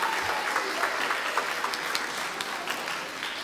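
Audience claps for costume contestants doing character impersonations at a contest, a steady burst of crowd applause lasting a few seconds, fairly close.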